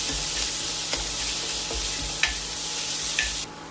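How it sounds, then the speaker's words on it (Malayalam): Crushed garlic, black pepper, ginger and cumin sautéing in a pan over a low flame: a steady soft sizzle with a few light stirring scrapes, close up, cutting off near the end. "വെളുത്തുള്ളി, കുരുമുളകും ഇഞ്ചിയും പിന്നെ ചെറിയ ജീരകം കൂടെ ചതച്ചത് ചേർക്കാം. ചെറുതീയിലൊന്ന് വഴറ്റിയെടുക്കണം."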